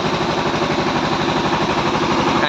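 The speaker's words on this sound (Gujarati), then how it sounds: "જનરેટર ચાલુ છે" A generator runs close by in a cyclone-battered village, a loud, steady mechanical drone with a rapid low pulsing throb that holds unchanged throughout, with no voices.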